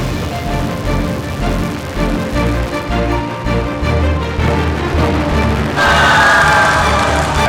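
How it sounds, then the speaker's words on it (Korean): Crowd watching the Naro rocket launch cheers, a rising mass of voices over a deep rumble that grows louder and brighter toward the end. "발사를 지켜본 많은 사람들이 환호했고"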